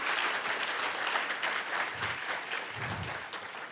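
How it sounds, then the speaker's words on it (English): A room full of people claps in applause, a steady wash of hand claps sustained for the whole stretch with a couple of low thumps midway. "Give yourself another hand clap of praise."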